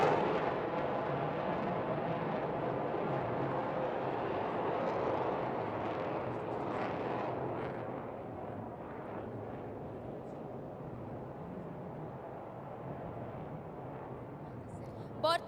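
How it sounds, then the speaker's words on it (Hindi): A MiG-29K fighter jet roars through an Indian Navy Day display, a loud continuous broadband rumble that swells and slowly eases off, with a voice speaking over it. "फल्क्रम नामरे प्रसिद्ध मिग 29 के प्रचंड गर्जन सहित निजर उपस्थिति जाहिर करुछि।"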